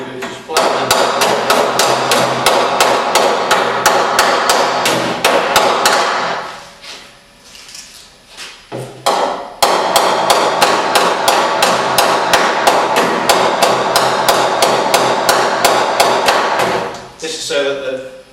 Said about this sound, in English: So all you need is your ball peen hammer.